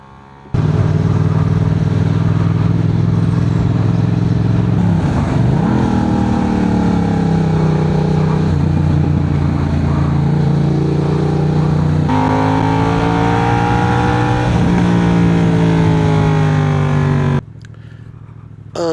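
Loud, close motorbike engine droning steadily while riding in Anglesey, with the pitch sagging and rising through gear and throttle changes before cutting off near the end.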